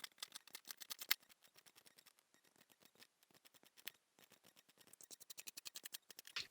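Quiet, close scissors snip in quick regular runs, cutting paper around a drafted pattern for a cowl neck dress, with short pauses and a faster burst of cuts toward the end.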